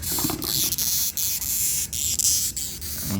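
Long-horned beetle giving off a strange stridulating sound: dry, ratchet-like scraping clicks that repeat every few tenths of a second over a steady hiss, close to the ear, with no talking.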